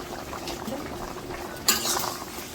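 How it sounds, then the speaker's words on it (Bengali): A pot of pumpkin and prawn curry bubbles at a soft simmer, with faint continuous gurgling and a brief clatter partway through, quiet and close with no talking. "জলটা গরম হয়ে গেছে, তরকারিটা ফুটে হচ্ছে।"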